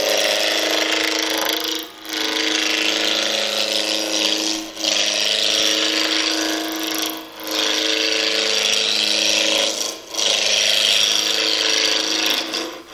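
A spindle roughing gouge cuts wood on a lathe, giving a steady, loud broadband shearing hiss that breaks off briefly every few seconds as the tool is lifted and repositioned. No one speaks.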